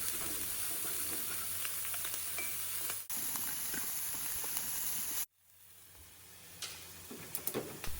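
Scallops searing in a hot pan, a steady bright sizzle that fills the clip, briefly cut twice, then settling into a lighter crackle with a few sharper pops near the end.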